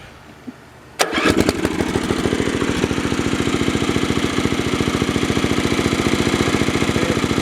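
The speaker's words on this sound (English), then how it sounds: "I finally just took a random spark plug out of one of these old motors here and stuck it in there, and it starts right up and runs real good now" An old modified Snapper 2650 lawn mower with a swapped spark plug catches after a brief pause, then its small engine runs loud and steady with an even, rapid chugging beat close by.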